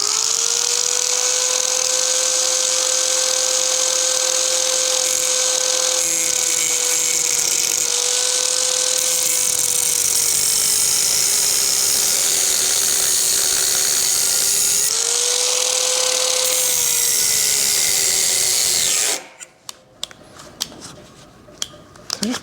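Brand-new Harbor Freight angle grinder with a cutting disc slicing through a motorcycle sissy bar on an XLCH chopper, a loud sustained whining screech with pitch dips under load, then it abruptly cuts out to quiet clatter.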